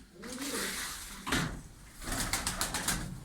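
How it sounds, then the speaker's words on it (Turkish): Tumbler pigeons in a loft coo in low, throaty, rolling calls close by, with rustling and a brief knock of movement between the calls. "Bakın arkadaşlar bakın çok güzel oyun kuşları var."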